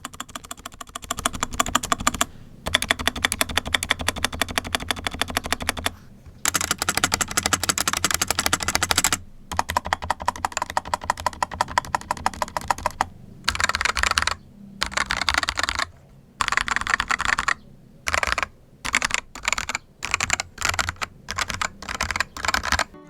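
Rapid typing on a Fantech Maxfit81 keyboard in stock build with a transparent case and Akko CS Jelly Black switches, dense bursts of close clacky keystrokes broken by short pauses, with no talk.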